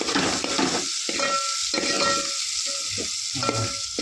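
Chopped onion and masala fry in a hot pan, a constant close sizzle broken by repeated scraping strokes of a spoon stirring the mixture; nobody speaks.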